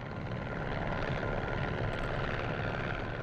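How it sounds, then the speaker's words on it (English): Solar Impulse solar-powered plane landing at Payerne, heard as a dense, continuous droning engine and wind rumble at steady loudness, with no voices. "After 90 minutes, Solar Impulse performed a perfect landing back in Payerne."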